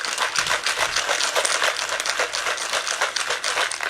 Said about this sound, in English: Now we're going to give it a shake.